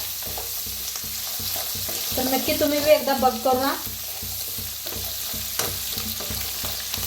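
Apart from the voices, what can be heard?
tempering leftover rice, frying and stirring in pan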